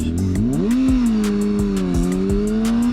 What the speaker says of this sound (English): So I have to like rev it up to get the engine going and then drag the clutch.